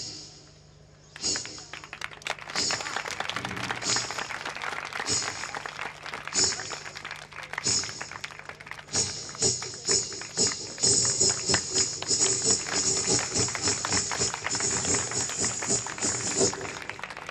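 Someone imitates jingling ghungroo ankle bells with their voice, making rapid shaky clicks and hissy rattles in a steady rhythm, up close.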